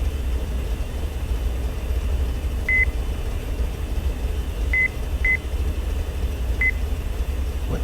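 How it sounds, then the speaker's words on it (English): Short electronic beeps in an X-Plane 11 flight simulator cockpit, four brief tones at irregular intervals over a steady low engine drone. "is that beeping sound"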